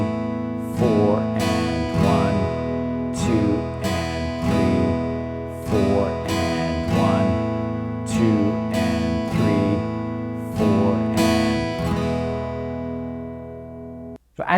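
An acoustic guitar strums a beginner pattern mixing downstrokes and upstrokes, the bright chord strikes falling in a steady repeating rhythm, loud and close, with no one talking over it.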